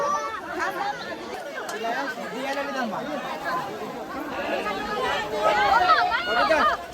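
Dense chatter from a big crowd at a Ganapati immersion by a river, many overlapping voices swelling louder toward the end, with someone talking nearby.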